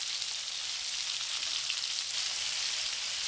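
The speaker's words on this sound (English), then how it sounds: "When the oil is hot, add the meatballs. Spread the oil and let it sear for 4 minutes." Meatballs sear in hot vegetable oil, a steady, close, bright sizzle with fine crackling spatter that holds evenly throughout, no voices.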